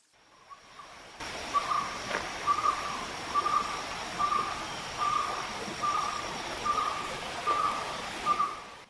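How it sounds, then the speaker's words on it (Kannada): Birds calling near a stream at Cave Ritz Resort near Begur: a short, clear call repeats at a steady, regular rhythm over a soft, constant wash of background hiss. "ಪಕ್ಷಿಗಳ ಇಂಚರ ನಮ್ಮ ಮನಸ್ಸನ್ನು ಸೆಳೆಯುವಂಥ ಒಂದು ಶಬ್ದ ಕೇಳ್ತಾ ಇದೆ."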